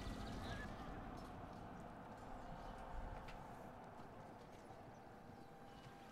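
Horses in Shogun 2 make quiet clip-clop hoofbeats in a steady rhythm, heard faintly under the game's low ambient sound.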